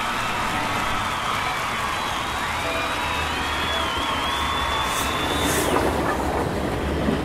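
A train rolls steadily past nearby, with a continuous rumble, rhythmic wheel clatter and a faint metallic squeal, loud throughout and no voices.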